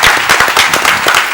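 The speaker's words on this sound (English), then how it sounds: "he deserves a better applause. Put your hands together." Loud, close applause from a school quiz audience at a regional final, dense sharp claps packed together with a slightly crackling texture, filling the short stretch without any speech.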